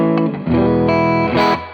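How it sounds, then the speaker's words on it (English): An electric guitar played through a Ventris reverb pedal set to spring reverb rings out with a few sustained, distorted chords and a washy tail, with no voices. "This is a spring reverb, which is basically like a a Fender amp kind of built-in reverb."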